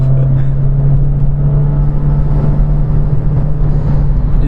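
A Renault Clio RS Trophy's engine drones steadily while being driven in Sport mode, a loud, constant low hum and road rush heard from inside the cabin with no voices.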